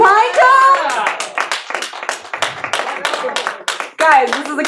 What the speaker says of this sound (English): Can I get some applause, please, for the pine cones?